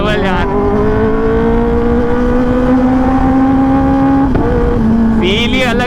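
A 2024 Kawasaki Ninja ZX10R engine roars loud and close while riding, its pitch climbing steadily through a gear with a quick shift, under wind rush.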